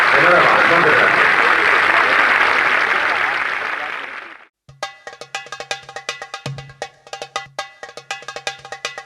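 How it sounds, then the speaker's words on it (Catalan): Dense, loud applause from an audience fills the first half at an award for a Benigànim folk dance group, then cuts off abruptly and is followed by sharp rhythmic percussive hits. "Jo crec que podria premiar-li modestament amb un aplaudiment fortíssim a Josep Maria Escudera la seva dedicació."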